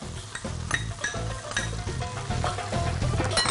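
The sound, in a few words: onions and parsley sizzling in melted butter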